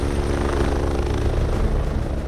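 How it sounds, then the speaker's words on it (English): Helicopter on final approach to land at a sports oval near an accident scene, its rotor and engine roaring loud and close in a dense continuous thrum with steady blade chop. "The helicopter has been cleared for landing at a local oval near the accident site"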